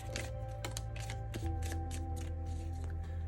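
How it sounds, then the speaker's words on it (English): Tea leaf fortune cards are shuffled in a close, steady run of riffling snaps and soft card flutters, with a low background hum underneath. "I was shuffling some tea leaf fortune cards to get some more insight"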